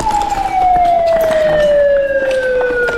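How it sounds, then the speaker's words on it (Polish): A wailing police siren sweeps downward in pitch, loud and steady throughout with no voices. "Chłopaki znowu odpalili syrenę policyjną."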